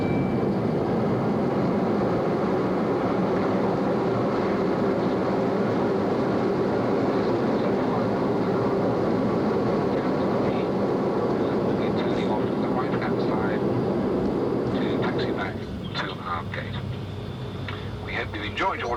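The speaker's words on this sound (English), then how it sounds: "Once that's on the ground, the reverse power will be coming on." Inside a Concorde landing, a loud continuous roar of engines in reverse thrust fills the cabin, steady for a long stretch before easing off and quieting toward the end.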